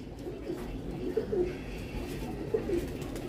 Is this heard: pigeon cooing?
yes